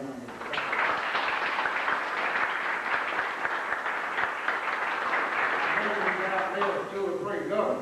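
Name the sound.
audience applause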